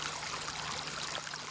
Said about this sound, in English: allow his channel of hot water to flow into the fish ponds